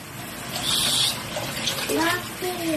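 Water running from a tap into a basin, a steady close splashing flow lasting about three seconds, with a voice talking over it.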